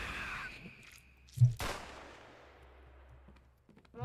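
Gunfire in a video game sounds as a single sharp shot with a brief crackling tail, followed by faint clicks, fairly quiet overall.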